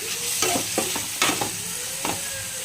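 Three tomatoes with salt fry in oil in a pan under a constant close sizzle, while a spoon stirs with several scraping strokes; no talking.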